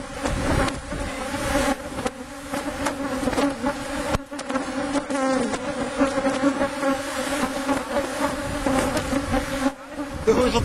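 A swarm of honeybees hums loudly and continuously around an opened hive, a close, fluctuating drone with occasional sharper buzzes of individual bees passing by.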